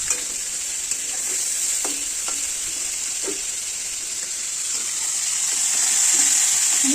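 Shrimp fry lightly in a pan with a loud, steady sizzle and a few scraping stirs, and no voices.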